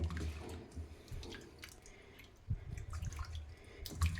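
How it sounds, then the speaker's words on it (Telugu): Fish being washed by hand in cold water, soft splashing and trickling with occasional drips and sloshes, faint and close, with no talking. "చన్నీళ్ళతో ఒక 3-4 సార్లు మొత్తం దీంట్లో ఉన్న నీళ్లు మనకి తెల్లగా వచ్చే వరకు కడిగేసుకోవాలన్నమాట"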